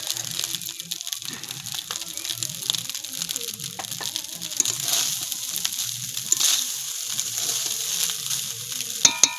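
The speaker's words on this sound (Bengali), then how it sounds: "কড়াইতে দিয়ে ভালো করে ভেজে নেব রাইসটাকে" Rice frying in a wok with beans, carrots, cashews and raisins gives a steady close sizzle, with occasional stirring scrapes and a couple of sharp knocks at the end, and no talk.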